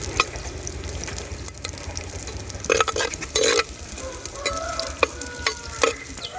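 Mustard seeds crackling in hot oil for country chicken curry, a low steady sizzle dotted with sharp pops and a few louder bursts of spattering, close by, with no voices.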